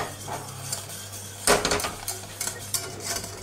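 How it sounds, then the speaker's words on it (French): Salted butter caramel stirred in a pan with a utensil, giving soft scraping and clinking against the metal over a faint sizzle, with a sharper knock midway. "Hop, on touille"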